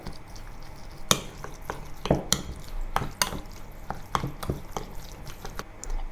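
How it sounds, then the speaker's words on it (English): Beancurd skin roll stuffing being mixed with cornstarch in a bowl: irregular wet slaps, clacks and squelches from stirring, scattered sharp knocks against the bowl over a quiet background, with no talking. "Mix thoroughly."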